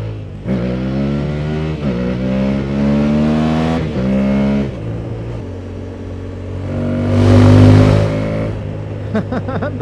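An Aprilia Tuareg 660 motorcycle engine revs hard for a wheelie on a muddy farm road. The loud, close engine note climbs and drops through several rev rises, surging near the end.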